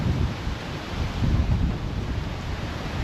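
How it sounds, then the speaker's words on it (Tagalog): Strong wind blows across Casapsapan beach, making a continuous rough roar that buffets the microphone. It swells and eases with the gusts, with no talking. "Malakas ang hangin."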